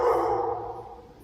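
A dog barking indoors inside an apartment complex, one continuous loud, close yelp-like burst that fades over about a second, with no talking.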